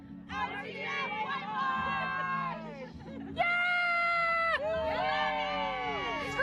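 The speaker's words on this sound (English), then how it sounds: "we want to do a little Orange Theory cheer" A small group of Orange Theory runners at an Ocean City running festival let out a loud, high-pitched group cheer and whoops, rising in a burst midway and sustained, amid outdoor crowd noise.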